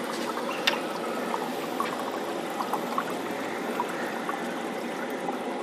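Water pours and trickles steadily out of a homemade aquarium pond filter, a continuous splashing stream with small drips on top, close by and with no voices.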